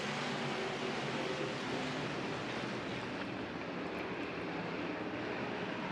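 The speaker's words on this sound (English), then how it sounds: "Out of turn number 4, Mike says, mash the gas" IMCA stock car engines roar as the field accelerates at an off-road speedway race, a dense, distant-sounding wall of engine noise that holds steady and loud throughout with no voices standing out.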